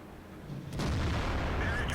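A sudden, loud tank cannon blast from World of Tanks erupts after a short quiet lead-in, with a heavy booming rumble that sustains to the end.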